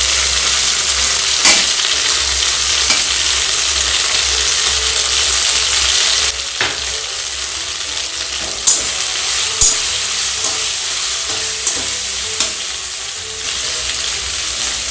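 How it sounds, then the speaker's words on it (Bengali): Poppy seed paste with ground green chili frying in a pan for a brinjal dish, giving a steady loud sizzle throughout, with occasional scraping stir clicks from a spoon against the pan. "এবারে পোস্ত বাটা দিচ্ছি। পোস্তর সঙ্গে কাঁচা লঙ্কা বাটা আছে।"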